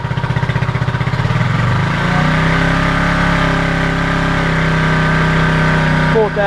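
A Honda CB250RS motorcycle engine runs steadily at about 2000 RPM after dropping from a higher, pulsing rev, with a constant mid-pitched drone and a brief blip near the end.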